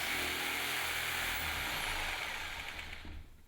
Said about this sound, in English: Use a jigsaw to cut out the diagonal lines.